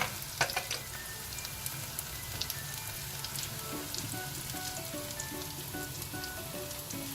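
Onion frying in a pan while being stirred for a beef curry with pumpkin. Constant crackling sizzle is broken by a few close scraping stirs near the start, and nobody speaks.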